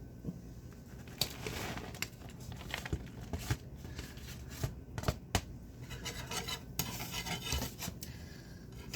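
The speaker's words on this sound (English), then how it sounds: "Keep stirring that." Metal utensil scraping and clinking against a cast iron pan while food is stirred, with irregular rubbing and sharp taps close by over steady low background noise.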